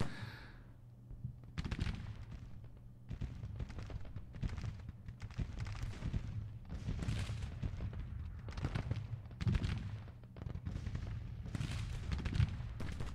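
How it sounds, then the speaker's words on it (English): Cavalry opens fire in the Civil War strategy game Grand Tactician, producing a rolling stream of overlapping gunshots and booming reports that fire in ragged bursts almost continuously, with some shots near and sharp and others more distant. "I figured I might as well open up some fire with this cavalry."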